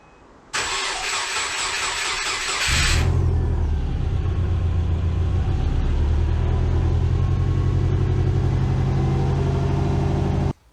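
A Subaru Impreza engine, on its first start after a clutch job, cranks briefly, then catches and settles into a steady, loud idle that keeps running close by.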